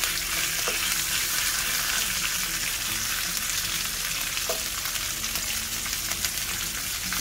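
Garlic sizzles steadily in a hot pan with tomato paste, a dense continuous frying hiss with faint stirring, close and moderately loud, with no talking.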